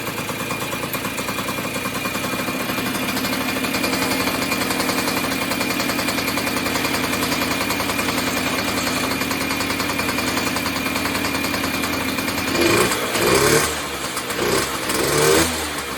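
A Yamaha double-engine MX80 motorcycle running on its old carburetor, a close, loud, buzzing two-stroke drone held steady for most of the run, then a few rough blips of the throttle near the end.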